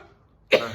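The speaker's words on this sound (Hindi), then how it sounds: "तुम खांस रही हो" A girl's single sharp cough bursts out close and loud after a moment of near silence, then trails off with a short raspy tail.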